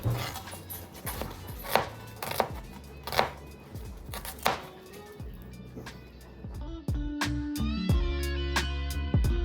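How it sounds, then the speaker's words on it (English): A knife chops onions on a cutting board in separated strokes, then speeds into a rapid, regular run of close, crisp chops. "But here I am just chopping away."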